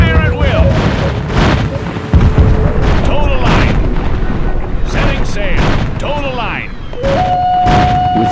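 Cannon and gunfire from units firing at will in the Empire Earth II strategy game, with repeated booms and blasts layered over a dense battle din, mixed with voice talk and a sustained tone near the end.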